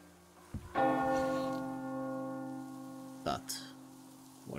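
Church bell tolling in the video game Metro Exodus, a single struck bell with a long ringing decay that sustains throughout, followed by a second fainter strike near the end.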